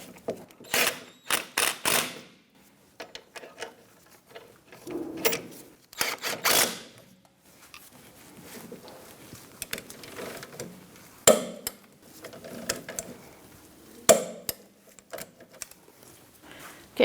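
Ratchet clicking in short, irregular bursts while tightening bolts on the parking brake hardware of a 2010-2013 Kia Soul, close and moderately loud, with pauses and scattered metallic clinks between runs.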